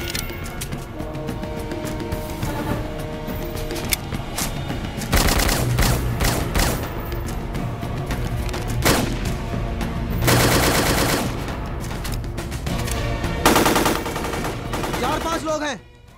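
Bursts of gunfire in a film battle scene, with rapid machine-gun volleys and single shots repeating loudly over a continuous music and effects bed.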